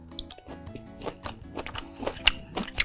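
Close, crisp crunching as Parmesan roasted broccoli is chewed, with quick, repeated bites and mouth sounds in an uneven rhythm.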